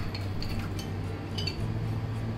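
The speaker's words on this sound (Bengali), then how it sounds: "এবার আবার নাড়াচাড়া করছি যেন কোনো দলা না থাকে বা দলা ধরে না যায়" A spoon stirs rice into milk in a pot while making phirni, giving faint, sparse metallic clinks and ticks against the pot over a quiet, low hum.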